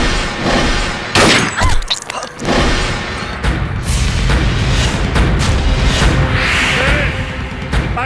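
Gunshots ring out in a Bhojpuri film scene: loud, sharp broadband bursts and thuds cut through a dense, continuous action soundtrack.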